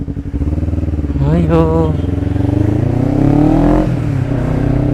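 A motorcycle fitted with a DX Generation Sphere Oval aftermarket exhaust pulls away, its idle rising into a loud revving, accelerating drone close by, with a brief voice at the start.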